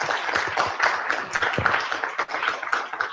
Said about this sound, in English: I would ask you all to give a last round of applause for our presenters